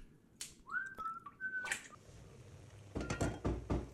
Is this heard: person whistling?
yes